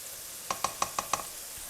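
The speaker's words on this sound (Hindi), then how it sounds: "कढ़ी में भी साथ साथ चम्मच हिलाते रहें ताकि ये लग न जाए।" A spoon stirs kadhi in a cooking pot: five quick metallic taps against the pot in a steady rhythm over a soft background sizzle, close and fairly quiet, no talk.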